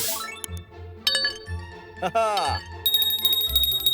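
Cartoon bell ringing in an animated comedy show, bright metallic chimes and tinkling tones struck in quick succession with sliding effects, interleaved with speaking voices.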